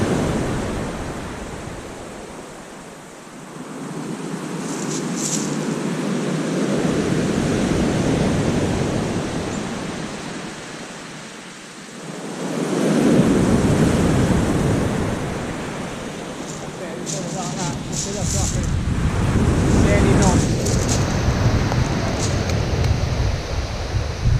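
Sea waves break and surge on the shingle at Weybourne Beach in North Norfolk, swelling and receding in broad washes under steady wind rumble.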